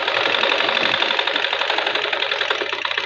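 A sewing machine stitches blouse fabric in a fast, even, continuous clatter, close and loud, running alone without a break.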